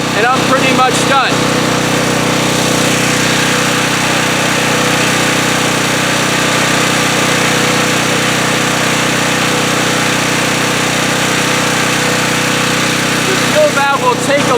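A home generator's engine runs steadily and loudly at close range, a constant droning hum that holds unbroken throughout, with brief voices near the start and the end.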